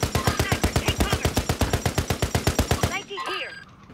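Rapid automatic gunfire in the video game Call of Duty Warzone, a loud, close burst of about twenty evenly spaced shots lasting nearly three seconds before cutting off into a brief ringing tail.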